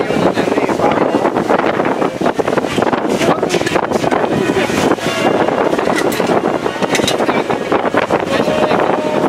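Strong wind at a beach resort zip line buffets the microphone in a constant loud roar, with faint voices and water sounds underneath.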